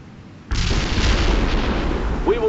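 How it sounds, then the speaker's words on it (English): Artillery barrage in the real-time strategy game World in Conflict, a sudden loud roar of blasts that bursts in and rumbles on as a heavy, continuous wall of explosions. "Coordinates sent. Fire the barrage. Target pinpointed. Commence artillery strike."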